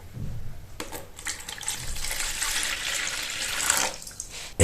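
Water poured steadily into a bowl of wholemeal sourdough bread dough with starter, a continuous splashing stream lasting several seconds before cutting off, close and moderately loud with no talk.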